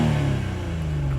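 BMW 840i xDrive Convertible engine in sport mode, a short, fairly quiet low drone with a steady hum and no speech.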